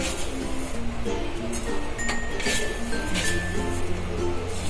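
A spoon clinks a few times against a pot as three spoonfuls of sugar are added to rasam, the light close taps bunched in the middle over a steady background hiss.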